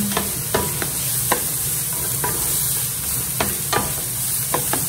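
Carrots are stir-fried for Japanese fried rice, with a steady close sizzle of oil in the pan and sharp intermittent scrapes and taps as a utensil stirs the vegetables.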